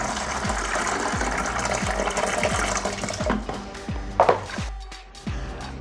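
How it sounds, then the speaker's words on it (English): Leftover water from a hydroponic garden tray poured into a bucket, a continuous splashing gush with rhythmic glugs that thins out and trickles to a stop near the end. "Then I pour out the excess into a bucket"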